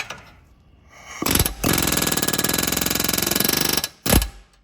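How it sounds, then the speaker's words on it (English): An air hammer rapidly taps a lower ball joint on a 2005 Volvo XC90, a short burst followed by a sustained, loud, evenly pulsing run of metallic hits, then one more brief blast, close to the workpiece. "couple love taps, the old air hammer here. Try and seat this in better."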